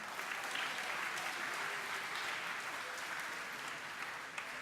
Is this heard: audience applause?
yes